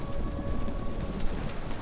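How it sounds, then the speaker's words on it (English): Hail pelting down in a stormy outdoor scene in the survival video game Nightingale, a dense, steady patter with a low rumble beneath, continuous over a short stretch. "Is that hail? Ow, it is hail."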